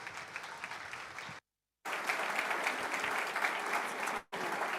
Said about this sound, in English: Please welcome, with a warm applause to the platform, Dr. Gabriel Ogbeche